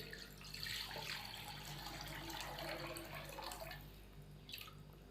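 Water poured into a pot holding bone-in chicken to make soup stock, a soft continuous splashing and trickling stream lasting several seconds, faint and close, with no speech.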